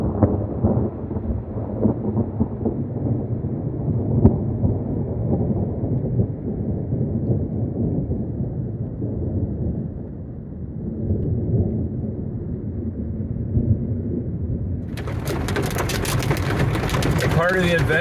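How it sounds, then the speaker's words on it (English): A hailstorm with rain and thunder batters a lookout cabin near Custer in Custer State Park, a dense continuous low rumble and drumming that holds steady, then a sharper broadband clatter surges in near the end. "I'm in the middle of a hellacious hailstorm."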